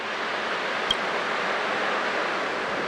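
Ocean waves in the Honkai Star Rail game, a continuous broad wash of surf with no clear breaks, steady and moderately loud, with one faint brief click and no voices.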